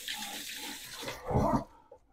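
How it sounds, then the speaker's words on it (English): Tap water runs into a kitchen sink while hands are washed after handling a beef pot roast, a soft hiss that swells into a brief louder splash before cutting off. "Wash that stuff off my hands."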